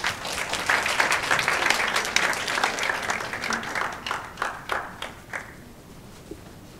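Audience applause welcoming a speaker at a startup event session, a lively burst of many hands clapping that gradually thins into a few scattered, separate claps before fading out.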